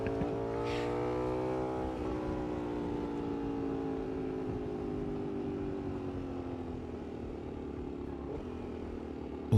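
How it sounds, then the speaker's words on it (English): A motorcycle downshifts on a rough street, engine pitch stepping down through gears and then settling into a steady falling drone, close and continuous with wind noise and no talking. "That was me downshifting."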